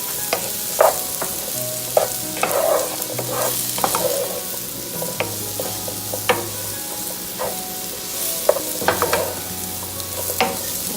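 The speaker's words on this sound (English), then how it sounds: "the mushrooms will soak up all the existing butter that you have in the pan" Sliced mushrooms sizzle steadily in butter in a pan for an Alfredo-style sauce, with repeated close scraping and stirring strokes of a utensil over the constant frying hiss, no voices.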